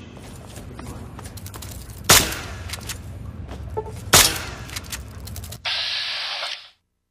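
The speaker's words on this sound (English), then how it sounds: "Think you can take care of it with your BB gun? Just aim and shoot." A BB gun firing at a rat roach in the video game Fallout 3, two sharp cracks about two seconds apart over faint ticking game ambience, followed by a steady hissing burst that cuts off abruptly.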